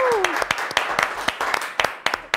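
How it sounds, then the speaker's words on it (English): Applause at an educational quiz show for children, as a team finishes a round: a short burst of claps with scattered sharp individual hits, set against a held tone and a brief descending effect at the start. "Let's give them a round of applause!"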